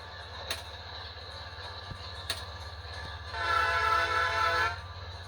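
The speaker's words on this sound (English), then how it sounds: "I think they added a new horn too." Horn of a GE B39-8 Dash 8 diesel locomotive in the Train Works video game, one sustained blast near the end over a steady engine drone, with a few brief clanks earlier.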